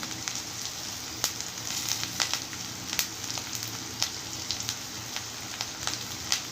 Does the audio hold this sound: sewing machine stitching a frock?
no